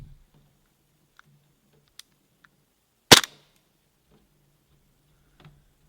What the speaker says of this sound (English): So let's put a few shots over the Chronograph and see what we're reading.